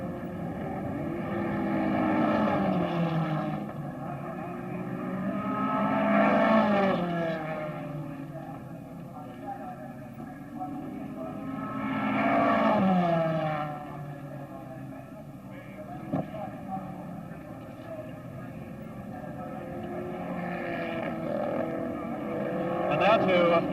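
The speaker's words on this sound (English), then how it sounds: "There goes Bruce McLaren round Polo corner, accelerating up the short straight to Ledger once again." Engine note of a 1963 Formula 1 race car accelerating out of a corner onto a short straight at a race circuit, rising and falling in repeated swells as it passes, fairly distant with a steady background hum.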